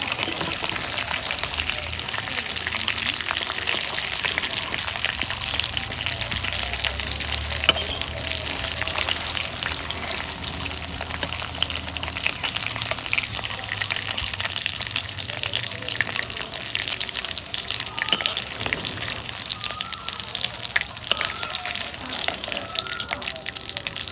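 Rupchanda (pomfret) fish pieces frying in oil in a pan, giving a steady, close, crackling sizzle that runs unbroken from start to finish with no voices over it.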